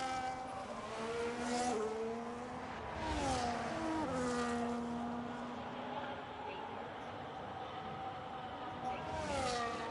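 A Red Bull race car in a racing video game at a race in Austria, its high engine note rising and falling through gear changes, loud and continuous.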